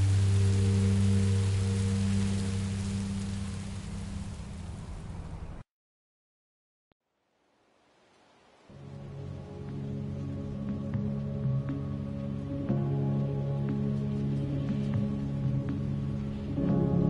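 Steady rain in Minecraft Story Mode hisses loudly, cuts to near silence for a few seconds, then fades back in under low game ambience with a faint hum.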